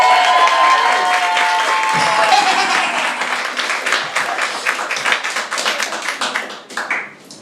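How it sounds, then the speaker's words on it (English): A crowd at a cosplay cabaret gives Matt a loud round of applause, with steady clapping and some cheering nearby. The applause thins into scattered claps before fading out. "Can we give him another round of applause?"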